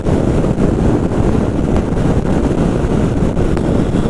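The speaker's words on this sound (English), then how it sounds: "the wind blast is quite high because it's a naked bike" Heavy wind blast buffeting the microphone on a Royal Enfield Shotgun 650 naked motorcycle at road speed, a loud continuous low roar that nearly buries any engine sound.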